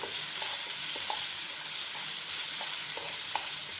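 Salt and asafoetida being sautéed in a pan for Chettinad kara kuzhi paniyaram, giving a steady, close sizzling hiss with a few faint stirring clicks.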